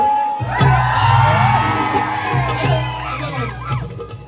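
Crowd cheering and whooping with shouts at a folk singing duel between rival shahirs, a loud sustained roar that swells and holds throughout.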